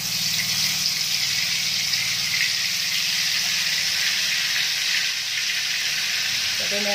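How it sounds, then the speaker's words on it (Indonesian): Blended red chilies sautéing in hot oil for sambal goreng kentang, giving a steady, loud broadband sizzle that holds evenly throughout, with a low hum beneath and a brief voice near the end. "sekarang kita panaskan dulu minyaknya. Kita tumis dulu cabenya"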